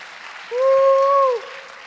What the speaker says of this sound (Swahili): Mumpigie makofi mazuri